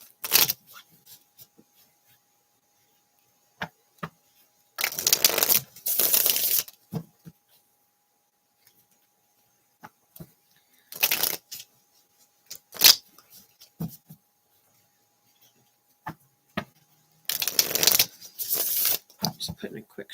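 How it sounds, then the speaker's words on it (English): A deck of cards being shuffled during a tarot-style reading, several separate bursts of riffling and bridging scattered across the stretch with quiet gaps between them, close and fairly crisp, no talking over them. "Just putting a quick shuffle on all the cards"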